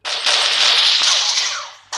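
A skull gun in a shooter video game fires a rapid, loud burst of gunfire lasting about two seconds, then a fresh burst starts at the end, with no voices.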